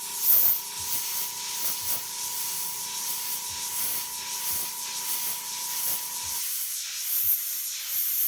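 An airbrush hisses steadily as it sprays paint onto the flaxen mane of a model horse, with faint rhythmic pulses in the airflow before it cuts off abruptly near the end.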